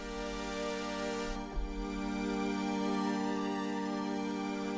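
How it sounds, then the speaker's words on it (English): Synth strings from a DRC synthesizer patch recreating a song, run through a phaser with slow rate and deep wet sweep; a sustained, steady chord that swirls gently, close and continuous, with no voices. "You have this kind of phasing effect on the strings that sounds really nice."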